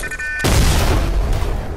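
A rocket launcher explosion in a video game hits suddenly after a quiet moment, a loud, heavy boom that fills the rest of the clip with a rumbling, crackling tail.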